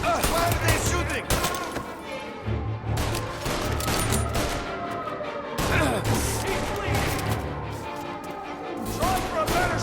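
Gunfire in the Mafia Definitive Edition video game: dense bursts of shots and crashing impacts continue through the whole stretch, loud and sustained, with game voices mixed in.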